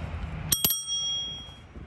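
Bicycle bell on a Segway-powered foldable ride, two quick bright rings close together with a shimmering ringing tail fading out.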